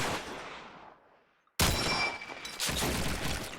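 Gunfire from a Call of Duty 2 match on the Dawnville map, shot through a wall: a fading burst, a brief near-silence, then a sharp loud volley followed by sustained rapid fire with metallic ringing.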